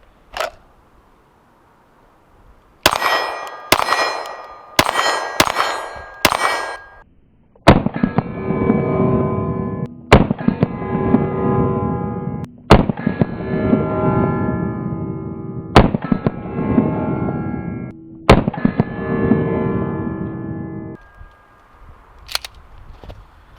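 A Glock 19 Gen 5 fitted with a Herrington Arms HC9XL compensator fires 124-grain self-defense rounds outdoors: a quick string of sharp, loud reports followed by slower spaced single shots, each with a ringing, echoing tail, and no talk.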